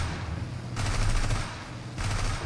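Sustained bursts of machine gun fire from a BF109-E1 fighter plane in War Thunder, two loud dense volleys separated by a brief lull, with engine drone underneath.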